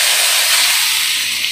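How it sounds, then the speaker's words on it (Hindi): Chopped ginger and garlic hit hot oil in which carom seeds have already crackled, making a loud, steady sizzle that runs unbroken throughout with no voices. "जब ये अच्छे से चटक जाए तो इसके अंदर हमें चॉप किए हुए अदरक और लहसुन डाल देना है"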